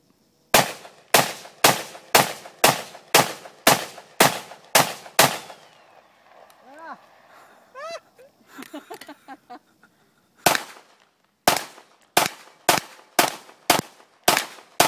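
AR-15 rifle firing outdoors, sharp loud shots in a rapid regular string, a gap with faint chirpy sounds, then another quick volley of shots close to the listener.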